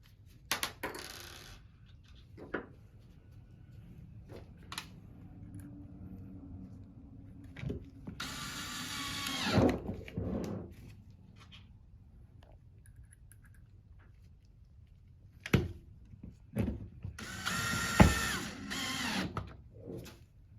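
Small screws being handled and driven back into a Hydro LM pump during a voltage retrofit, with faint scattered clicks, clinks and brief rattling bursts over a quiet room.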